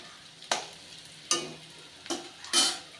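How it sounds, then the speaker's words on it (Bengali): Onion fries in mustard oil with dried red chillies in a wok: four sharp stirring scrapes land about a second apart over a steady, low sizzle, close and clear with no talk. "পেঁয়াজটা ভাজা হয়ে গেছে।"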